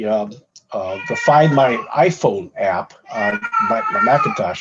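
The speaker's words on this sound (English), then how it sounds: "I don't know if you can hear my cat in the background" An elderly cat, nearly 19 years old, meows in the background of a room while someone talks over it, the cries rising intermittently beneath his steady speech.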